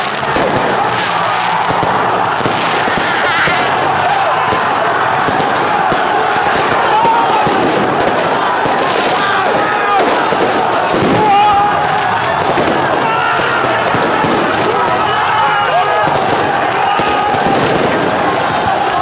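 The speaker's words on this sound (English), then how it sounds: "explosions, fireworks," Street celebrations after a PSG win, with fireworks and firecracker explosions crackling and popping densely and continuously amid a loud, roaring crowd, with people talking throughout.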